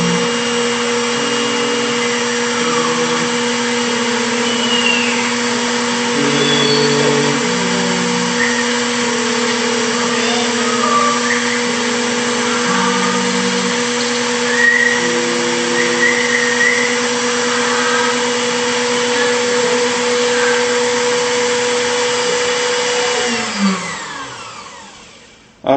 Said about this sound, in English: Now she's actually going to come in and cut a Lexus key.